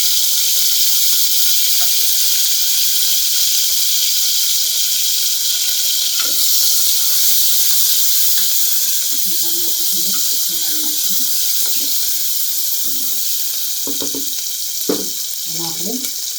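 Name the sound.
curry leaves and chopped coriander sizzling in hot oil tadka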